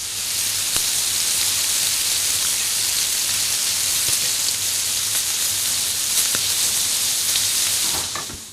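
Frog legs frying in a hot pan, a dense, loud, even sizzle that hisses without a break for several seconds, with a few faint clicks and no talking.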